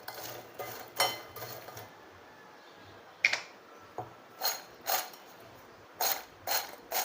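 Spiced masala peanuts with salt and chili powder being tossed in a pan, giving a series of sharp, dry rattling scrapes in irregular bursts, close and fairly loud against a quiet background.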